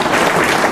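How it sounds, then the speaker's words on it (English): An audience at an evening event applauds, a short burst of dense, loud clapping heard on its own. "Let's give a round of applause to Tom and Paul for organizing this event"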